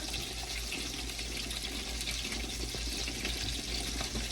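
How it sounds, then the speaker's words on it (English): Water pours steadily into a pot for cooking ramen, a continuous rushing splash heard close and fairly loud throughout, with no talking. "And now we need to add some water in here."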